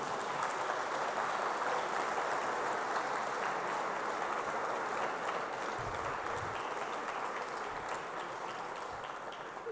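Sustained audience applause at a talk on wine and vineyards in French song: an even wash of many hands clapping for nearly ten seconds, moderately distant and fairly soft, easing off slightly at the end.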